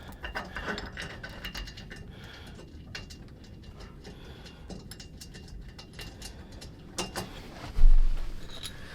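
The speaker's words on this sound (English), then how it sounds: "Now just take a 4mm Allen socket or a 4mm Allen key and tighten those down." A hand ratchet with a 4mm Allen socket tightens button head cap screws on a shackle hanger cover plate for a Toyota Tacoma, giving rapid clicking runs with brief pauses and a louder clunk near the end.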